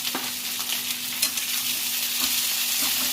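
Cut ladyfingers (okra) sizzle in a cauldron-style frying pan with a steady hiss of hot oil, broken by soft scraping stirs, close and continuous without voices.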